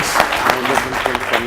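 Brief clapping for a team at a national quiz competition, a short burst of distinct claps with a voice audible underneath.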